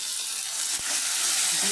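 Tomato dropped into a pan of hot spices and ground black pepper for a rohu fish curry, setting off a loud, continuous sizzle with a brief thump as it lands.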